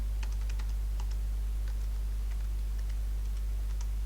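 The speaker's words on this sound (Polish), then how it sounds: "kliknięcie raz lewym przyciskiem myszy na tym pasku i wprowadzenie adresu strony Alior Banku" Someone types a web address on a computer keyboard, with a quick run of light key clicks in small bursts over a loud steady low hum.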